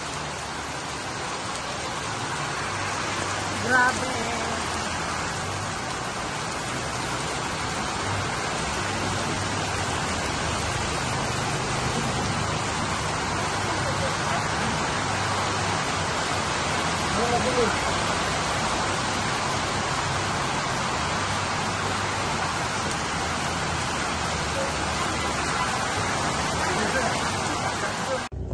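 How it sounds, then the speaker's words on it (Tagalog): Heavy rain in Kapatagan near Mt Apo pours down in a loud, steady, unbroken hiss, with a few brief voices heard faintly underneath. "Lakas ng ulan dito sa Kapatagan."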